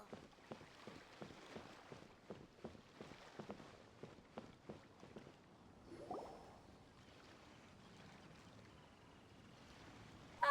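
Boat setting sail in the video game Genshin Impact: a soft, steady wash of water and wind with a run of light rhythmic knocks, then a brief surge partway through, all fairly quiet.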